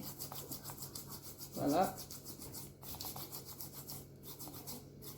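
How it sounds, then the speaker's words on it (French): Hands being scrubbed with an exfoliating scrub, a short, soft rubbing burst standing out over steady background noise, with a brief spoken word nearby. "Je vais gommer mes mains."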